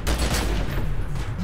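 A rapid burst of enemy gunfire in the video game Secret World Legends, loud and close, rattling off in quick succession for a moment with no talk over it.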